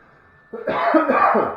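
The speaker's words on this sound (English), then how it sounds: "Cough, cough." A single harsh cough bursts out after a quiet moment, close and loud, followed by a rough throat-clearing rasp.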